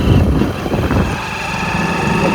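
A motorbike engine labours steadily while riding through deep sandy ruts, a continuous loud rumbling drone that holds throughout with no pauses.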